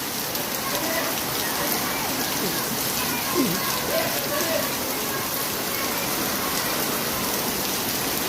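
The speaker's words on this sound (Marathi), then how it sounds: "प्रचंड पाऊस आलेला आहे पहिला आता" Heavy first monsoon downpour in Mumbai, a steady dense hiss of rain pouring down without pause throughout, close and even in loudness, with faint voices in the background.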